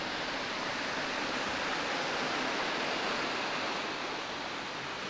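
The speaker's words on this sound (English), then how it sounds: "We made it to the waterfall." A jungle waterfall pours with a steady, dense hiss of falling water, constant and fairly loud, with nothing else heard.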